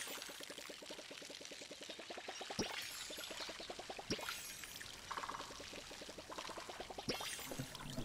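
Plants are watered in the video game Palia: a quick run of even, splashy pulses pours in several bursts, broken by short whooshing swipes, fairly quiet and with no speech.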